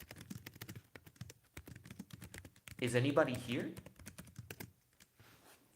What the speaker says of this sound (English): I'm having trouble typing right now.